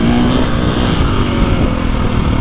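KTM 450 Factory Edition motorcycle, a 60-horsepower 450 dirt bike, engine running steadily and loud with a sustained throaty drone, close by and alone.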